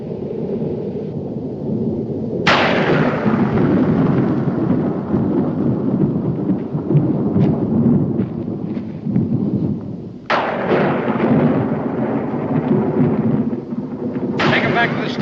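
Deep rolling thunder from an approaching storm, loud and sustained, with sharp cracks near the start, middle and end that each trail off into a long rumble.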